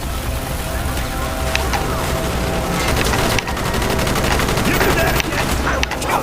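Gunfire in Call of Duty Black Ops: dense, continuous bursts of automatic weapon fire and cracking shots fill the scene. A voice talks under the shooting.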